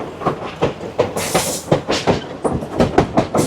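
A passenger train bound for the Grand Canyon in America clacks along in a close, loud, regular rhythm of wheel beats over rail joints, with one brief hiss partway through.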